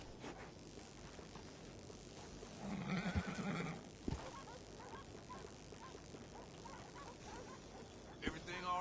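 A horse whinnies in a western-style video game, a short neigh burst rising briefly out of steady background ambience while a voice talks nearby.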